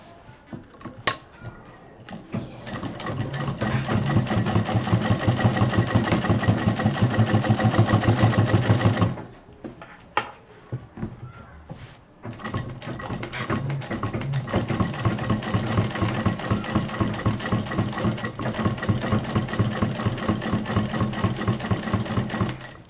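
A sewing machine stitching thick fabric for a DIY backpack, a loud, steady mechanical whir that runs continuously, halts briefly, then resumes at close range.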